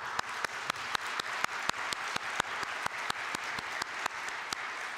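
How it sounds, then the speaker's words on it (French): Audience at a strategic forum on the creative industries applauds steadily, with a dense wash of many hands and a few sharper claps standing out at a regular pace, fairly distant and even in level throughout. "Et je t'applaudis pour ça."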